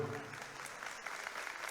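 A congregation at Palm Sunday mass gives a short burst of steady clapping that fills the church.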